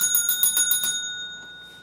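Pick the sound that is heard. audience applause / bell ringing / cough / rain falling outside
bell ringing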